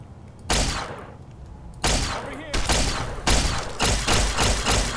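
Loud, repeated gunshots from a gun in Fallout: New Vegas, fired in a series of close, booming blasts with a short tail after each shot and brief pauses between them.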